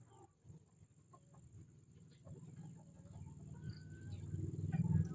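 A pet rooster clucks in soft, repeated bursts that grow louder and closer over a few seconds, with faint background noise around it.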